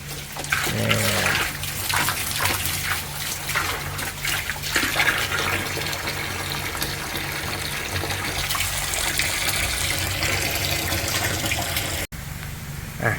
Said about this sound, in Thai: เดี๋ยวผมจะทำการล้าง ถังให้สะอาดนะครับ